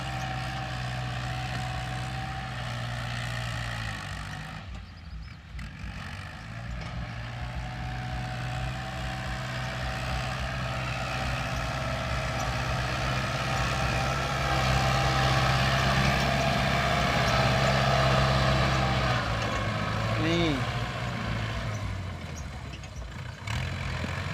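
A bulldozer pushes soil, its heavy diesel engine holding a loud, steady low drone close by for the whole stretch, with slight shifts in load and no voices.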